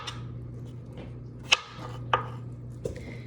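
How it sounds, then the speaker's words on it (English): Knife chopping produce on a board, a few sharp isolated chops spaced about half a second or more apart, close and crisp, over a faint steady hum. "we are just chopping away"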